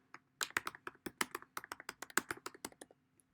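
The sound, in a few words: typing a search on a computer keyboard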